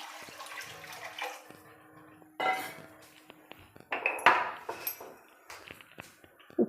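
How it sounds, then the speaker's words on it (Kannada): Water poured into a pot of cumin rasam on the stove, heard as splashy bursts mixed with clinks of metal cookware, uneven and close, with no talking. "ಈಗ ಇನ್ನೂ ಸ್ವಲ್ಪ ನೀರು ಸೇರಿಸ್ಕೊಳ್ತಾ ಇದ್ದೀನಿ."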